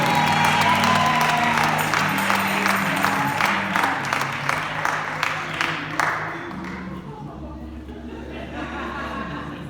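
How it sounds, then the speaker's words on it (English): Church audience at a COGIC service claps and cheers to greet Lady Marion Thuston, a dense burst of applause with chatter and light laughter mixed in, loud at first and thinning toward the end. "Clap your hands so she can say hello"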